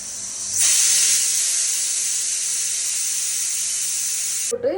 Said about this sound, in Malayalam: രണ്ട് വിസിലടിച്ചിട്ട് വേവിച്ചെടുക്കുക